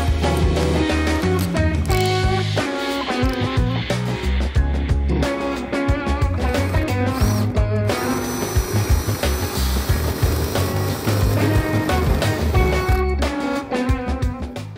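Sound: power drill drilling hole for security camera cable

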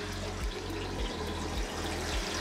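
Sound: washing machine drum filling with water

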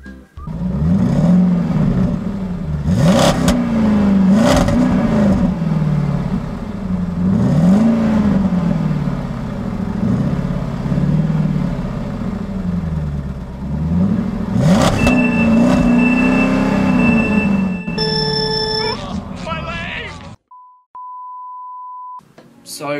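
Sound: cars revving and accelerating in a drag race

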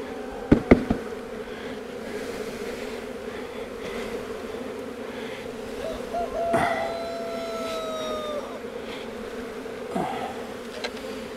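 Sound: honeybees buzzing while shaken into hive

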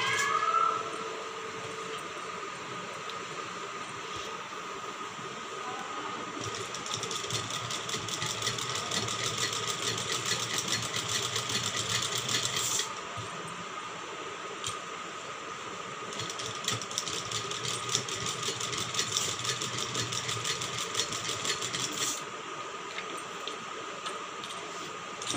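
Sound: sewing machine stitching blouse neckline

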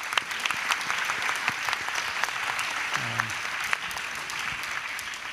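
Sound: forum audience applause

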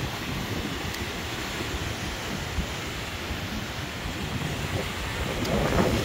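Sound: wind at a waterfall

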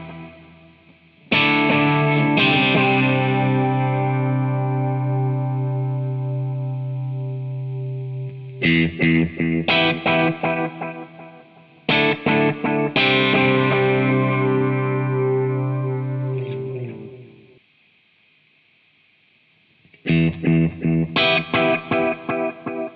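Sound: Morley Evo 1 oil can delay guitar effect, AmpliTube

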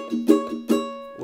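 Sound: ukulele strings strummed while pressed down hard

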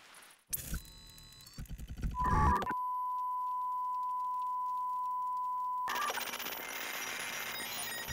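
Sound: telephone dialing in video game Welcome to ParadiZe

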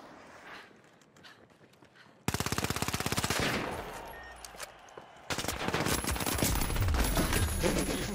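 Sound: machine gun fire in the video game The Finals

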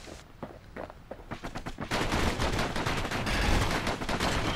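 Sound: gunfire in the video game Bastion

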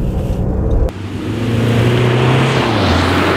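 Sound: Audi A1 hot hatchback engine while cornering

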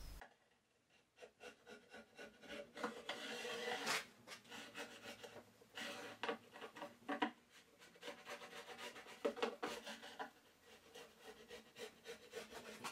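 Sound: hand tools cleaning wooden board housing in vise

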